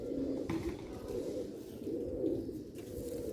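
Pigeons on a rooftop coo in a low, continuous murmur, the soft repeated calls steady and close throughout over faint background noise.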